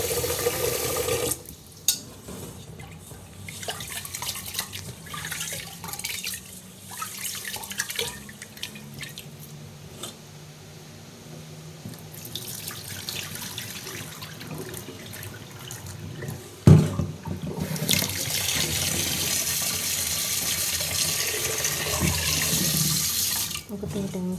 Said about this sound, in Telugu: రైస్ అయితే ఇలా కడిగి పెట్టేసుకున్నాను